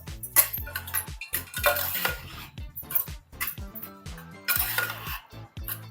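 Basmati rice tossed and mixed in a pan with a metal spoon, giving repeated clinks and scraping strokes against the pan in an irregular rhythm, close and clear, without speech.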